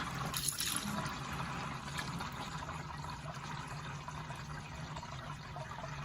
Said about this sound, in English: So we're going to pull that drain plug, drain this oil out